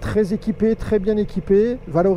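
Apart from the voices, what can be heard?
No everyday noises stand out.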